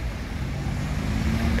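A Sinar Jaya bus idles and rumbles at a terminal in a short, steady stretch of low engine and traffic noise at moderate volume.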